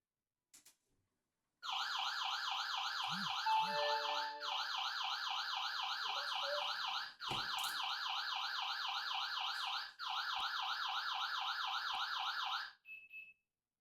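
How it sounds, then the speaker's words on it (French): A loud electronic home security alarm siren, an AGSHOME model, wails in rapid rising-falling sweeps, cutting off briefly twice before resuming, then stopping, after a couple of faint clicks. "l'alarme se déclenche chaque fois en moins de 5 secondes après l'ouverture"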